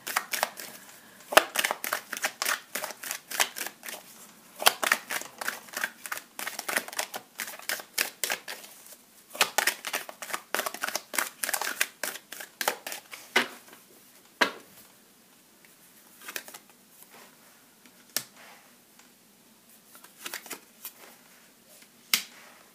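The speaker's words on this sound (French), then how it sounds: "J'ai tiré 2 cartes" Tarot cards are shuffled and drawn by hand, a long run of rapid crisp slaps and riffles in bursts, close and clear, with short pauses between the flurries.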